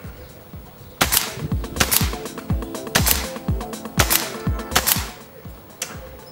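A spring-piston or PCP air rifle shooting 15-grain pellets, a string of sharp, close, loud cracks spaced roughly a second apart, each with a short metallic ring and a clicking reset between shots, no talking.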